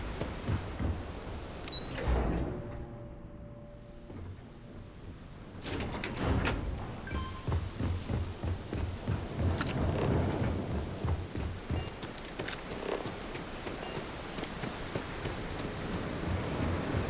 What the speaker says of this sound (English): Nice if it would stop raining.